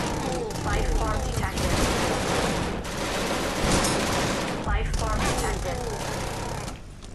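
Turret gunfire rattles in dense sustained bursts during a hectic alien boarding fight aboard a starship in Genesis Alpha One, loud and continuous alongside other battle noise, with a voice speaking over it.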